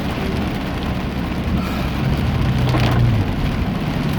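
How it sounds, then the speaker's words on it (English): Heavy rain pouring steadily, a dense loud roar of drops that swells slightly midway, with no voices. "it looks like it's pouring down rain"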